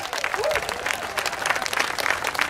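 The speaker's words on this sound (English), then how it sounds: "Let's give the musicians a round of applause." Outdoor crowd applause for musicians at the March on Washington 50th anniversary rally, a broad, distant-sounding wash of clapping and cheering with a brief voice early on.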